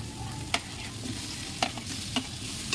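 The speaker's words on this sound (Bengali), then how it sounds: "আমি ভেজে নিয়ে নিই আলুগুলো" Potatoes fry in oil with spice masala of salt and turmeric, a soft constant sizzle broken by four sharp spatula knocks against the pan.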